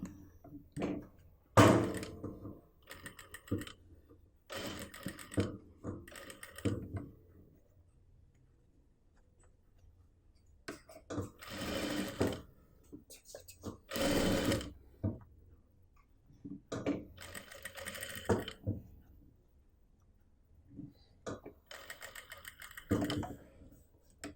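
A sewing machine runs in repeated bursts while stitching a churidar neckline, with short loud runs of rapid stitching separated by pauses and small handling clicks, close by with no talk.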